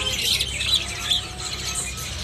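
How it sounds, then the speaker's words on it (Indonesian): Orange-headed thrushes (anis kembang) give short squawking calls and chirps inside a bird shop kiosk, close and fairly loud over a steady background hum. "Nah, kalau ini buat stok burung anis kembang teman-teman."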